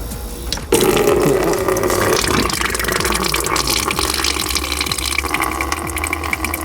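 Coolant and flush water draining out of the cooling system of a Polo 9N3 GTI 1.8 20VT, a steady loud gushing and splashing that starts abruptly after a brief pause and runs on continuously without talk.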